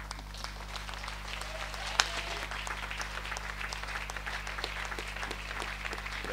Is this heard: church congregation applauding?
yes